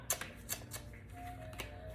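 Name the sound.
shuffling tarot cards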